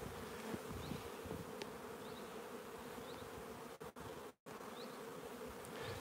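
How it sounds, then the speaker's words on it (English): Steady buzzing of bees fills the air, a continuous low drone with a few brief dropouts and faint chirps overhead. "I can hear bees. We've got bees in front."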